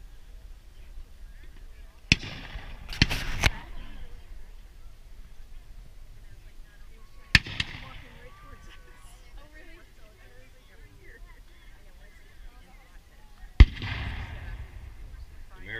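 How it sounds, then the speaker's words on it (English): Field artillery cannons fire at a battle reenactment, three sharp booms spaced several seconds apart, loud against a quiet outdoor background, with people talking between the shots. "American field artillery firing back."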